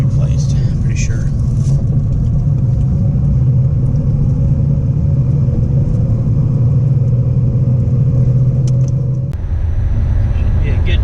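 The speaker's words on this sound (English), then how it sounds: "you'll have to listen to this engine" A 2004 Subaru's engine drones steadily while the car drives, a loud continuous low rumble from inside the cabin that holds nearly unchanged before a brief dip near the end.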